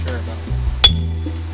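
A steel chisel is struck once against granite rock, giving a sharp ringing clink with a brief metallic ping, amid low background rumble and a voice talking nearby.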